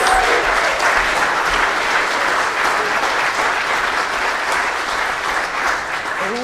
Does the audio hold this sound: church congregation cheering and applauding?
yes